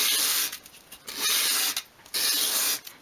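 A small dollhouse shelf piece is rubbed against sandpaper to form a bevel, making repeated soft, raspy sweeps in a steady back-and-forth rhythm, close and fairly loud.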